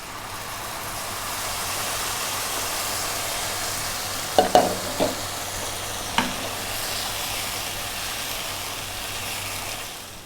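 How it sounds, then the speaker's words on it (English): Egg curry cooks in a pan with coconut milk, giving a steady, even sizzle with a few short spoon clinks partway through. "Now we'll add the coconut milk and cook for 5 minutes."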